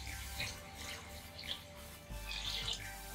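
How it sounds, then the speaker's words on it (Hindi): Water splashes and trickles into a metal pressure cooker, a soft continuous pouring sound with a few bright splashes, fairly quiet and close. "इसमें हम ऐड करेंगे पानी पानी की क्वांटिटी हमें ज़्यादा रखनी है"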